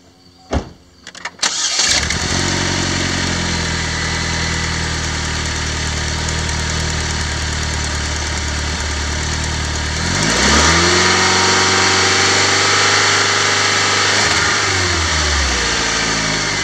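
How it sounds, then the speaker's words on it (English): A Pontiac Solstice 2.4L fitted with a Hahn turbo cranks and fires up, then settles into a steady, loud idle before revving up and easing back down, recorded close with no talking. "Let me fire it up for you so you guys can hear what it sounds like."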